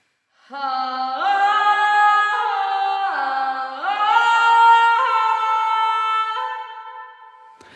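A single voice holds long sung notes that shift in pitch, sounding roomy and distant with a reverberant tail as it fades.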